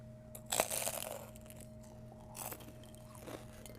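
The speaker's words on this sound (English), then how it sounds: "you can hear that crunch." Crisp bite into a crunchy fried lentil sambusa, a sharp crackling crunch followed by softer chewing crunches, close and quiet with no talk.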